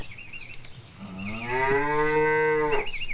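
A single dairy cow on an Italian farm lets out one long, loud moo, rising and holding for about two seconds, close by with no voices.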